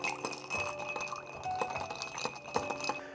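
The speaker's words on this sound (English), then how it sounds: "And now we give it a nice stir." A Revolver cocktail is stirred with a big ice cube, giving soft, close glassy clinks and a light rattle of ice against the mixing glass, repeated in a quick rhythm.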